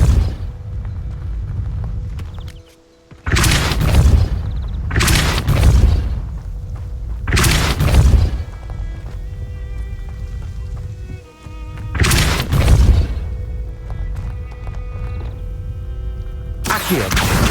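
A Depulso spell is cast in the Hogwarts Legacy video game: several loud, sharp blasts burst out at intervals over a steady background hum, each a brief whooshing boom.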